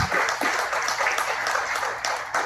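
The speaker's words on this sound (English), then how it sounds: "if you all would join me in giving a round of applause for our panelists." Audience applause for panelists at a post-screening discussion, a steady wash of many hands clapping at moderate volume throughout, fairly close and continuous.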